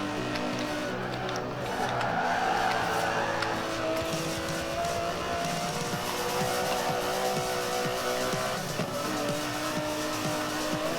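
An Aston Martin DB11 in Forza Horizon 4 drives with a continuous, fairly loud engine drone that rises and falls through gear changes, with bursts of tire squeal along the way.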